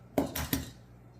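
A room temperature egg is cracked for baking blue crinkle cookies, giving two or three quick, close taps and a crack against a mixing bowl, sharp and brief, with no talking.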